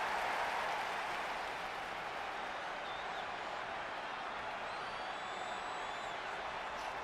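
A large arena crowd in the WWE 2K20 wrestling video game keeps up a broad, steady roar of cheering and applause, fairly faint and continuous, with a few thin whistles rising above it.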